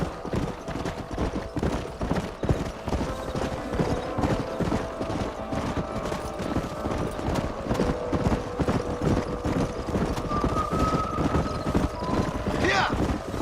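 Horses trot past with a steady clip-clop of hooves, sounding fairly close and continuous throughout, with voices talking over the rhythm.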